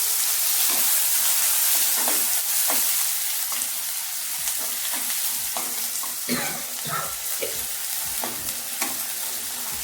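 Onions fry in hot oil in a kadai, a loud continuous sizzle and hiss with repeated scraping stir strokes throughout, close and unbroken.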